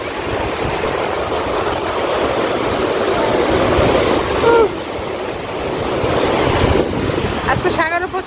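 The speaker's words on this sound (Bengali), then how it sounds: "আজকে সাগরে প্রচুর বাতাস, ঢেউ।" Strong wind and sea waves on a beach in Lebanon: a continuous roar of breaking surf with wind gusting over the microphone, steady and loud throughout.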